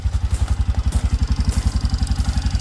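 A four-wheeler ATV engine runs close by at a steady idle, a rapid even low thumping pulse with clattery mechanical texture throughout, no talk.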